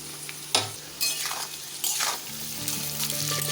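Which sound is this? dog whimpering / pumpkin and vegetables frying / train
pumpkin and vegetables frying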